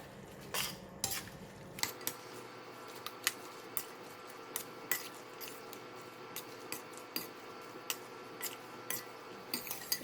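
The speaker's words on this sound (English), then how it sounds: "So I put the vegetable now and I'm just going to give it a stir." A utensil stirring bean sprouts in a pot of thick gravy for lor mee, giving repeated sharp clinks and scrapes against the metal at an irregular rhythm, fairly quiet and close, with no voices.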